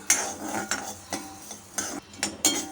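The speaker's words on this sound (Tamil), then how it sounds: "இப்போ இதை வந்து நம்ம நல்லா வறுத்துக்க போகிறோம் மல்லி வந்து ரொம்ப வறுக்க வேண்டாம்" Coriander seeds dry-roasting in a kadai, with a spoon scraping and stirring in about six separate clinking strokes spread evenly through the stretch, close by and moderately quiet, with no talking.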